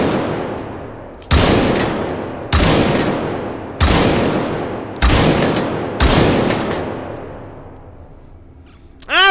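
A 50 BMG personal defense weapon firing in the VR game H3VR, five loud, evenly spaced single shots, each with a long echoing decay, followed by a quick metallic rattle at the end.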